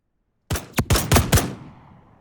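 Gunfire in the video game Reaper Actual, a quick burst of five loud, sharp shots in fast succession after silence, each with a short echoing tail.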